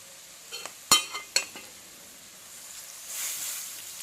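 Mutton fry topped with coriander being stirred and scooped from a hot pan into a bowl: a few sharp metal clinks of a spoon against the pan, then a soft, steady sizzle toward the end.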